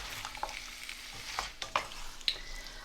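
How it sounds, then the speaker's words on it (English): Potatoes sizzle softly as they stir-fry in a pan, with scattered scraping and clinking as they are stirred, quiet and close. "I've been stir frying these potatoes for about a minute"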